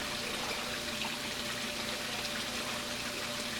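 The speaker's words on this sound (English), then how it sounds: "there we go, I heard water" Water runs steadily through an aquaponics grow bed line, a continuous broadband rushing and gurgling flow with a faint pump-like hum underneath, no talking.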